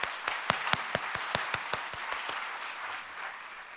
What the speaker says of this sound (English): Let's give them another round of applause for the wonderful job that they did tonight